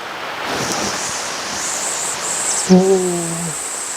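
A steady roar of falling water fills the scene, with a brief tonal sound near the end.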